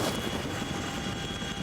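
A Chinook helicopter drones in a brief burst of dense rotor and engine noise, loud and steady.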